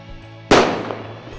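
A Zoraki K-6L blank-firing revolver fires a loud flare cartridge in a single sharp bang that decays into a long echoing tail, with a quieter background before it.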